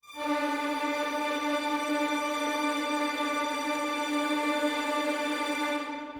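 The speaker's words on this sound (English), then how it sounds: "mandolin is taking over and violins are supporting everything with very high and very quiet tremolos" Mandolin playing with violins supporting it in very high, very quiet tremolos produces a steady, shimmering sustained chord that holds without a break, rich in bright overtones, alone with no talk.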